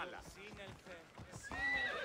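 A horse in Assassin's Creed Odyssey whinnies over a few clopping hoof steps, fairly faint and brief, with a game-like quality.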